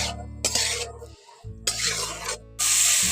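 Potatoes and soybean chunks with salt stirred in a pan, giving intermittent scraping, rasping bursts separated by brief pauses, close and moderately loud.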